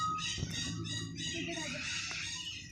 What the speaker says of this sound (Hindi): तो देखो नीचे मुर्गी हैं